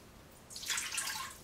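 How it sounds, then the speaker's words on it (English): One cup of water poured into an Instant Pot inner pot over a trivet, a faint, brief splashing trickle that starts midway and continues alone. "I'm going to add 1 cup of water into the pot."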